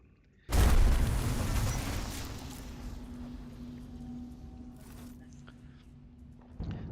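A cutscene explosion in the video game Warhammer 40,000: Rogue Trader hits as a sudden loud boom, then a long rumbling decay that fades over several seconds, with a faint low hum underneath.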